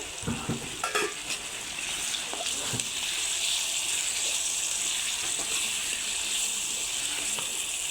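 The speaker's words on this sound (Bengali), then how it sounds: "এখন টমেটো কুচি দিয়ে দিতেছি" Chopped tomatoes hit hot oil in a pan and sizzle steadily and loudly, close by. A few scrapes and clinks from stirring at the start, then an even, continuous frying hiss with no one talking.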